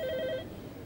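A telephone bell rings in a quick trill for about half a second, then stops, leaving a quiet room with low background hum.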